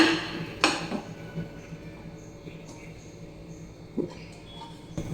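A mango rava cake is turned out of its tin onto a plate, giving a few sharp clinks and light taps of metal against crockery, spaced apart, under a person talking.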